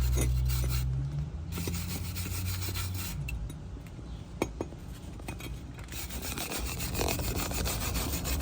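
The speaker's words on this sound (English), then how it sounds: "we'll use our wire brush just to clean the inside a little bit" A wire brush scrubs steadily at the inside of a brake bracket on a 2010 Honda Accord, a close, continuous rasping with no talking.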